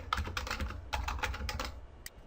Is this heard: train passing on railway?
no